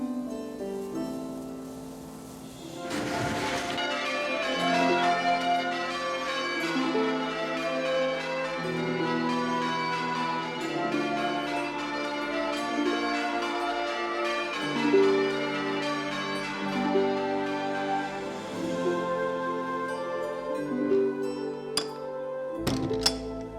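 Church bells ring in a continuous layered peal, many overlapping tones sounding steadily and fairly loud throughout, with a brief noisy burst early on.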